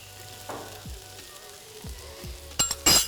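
Tomatoes drop into a hot frying pan and sizzle, with a few stirring scrapes and light clinks of utensil on metal.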